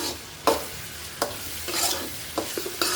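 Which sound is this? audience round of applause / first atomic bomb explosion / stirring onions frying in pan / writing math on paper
stirring onions frying in pan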